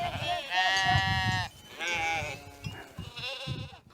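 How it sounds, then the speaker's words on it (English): Sheep bleating while being herded out to graze on highland pasture: several loud, wavering bleats from more than one animal, close by, overlapping one another with brief pauses between calls. "taking out his sheep to graze at the Chapling pasture land"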